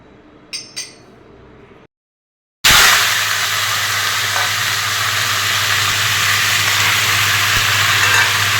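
Dried chilies and five-spice seeds drop into overheated, smoking oil and burst into a loud, steady sizzle that carries on alone after a couple of clicks and a brief silence.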